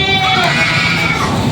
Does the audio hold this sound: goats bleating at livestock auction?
yes